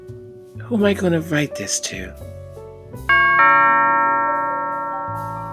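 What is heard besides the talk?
doorbell ringing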